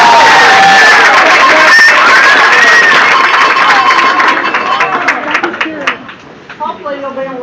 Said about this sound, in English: So give her a great round of applause,